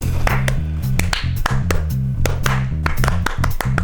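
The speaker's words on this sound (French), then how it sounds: "Synchronisez vos applaudissements." Hands clap in sharp, closely spaced bursts, struck together over a steady rhythmic musical backing with low repeating tones, loud and near.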